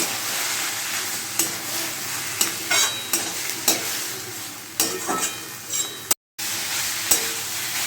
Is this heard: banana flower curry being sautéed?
yes